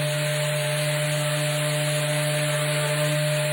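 An electric power sander works steadily on wood during a new project, a continuous close motor whir with a constant hum and a light abrasive rasp, unbroken and without talk for the whole stretch.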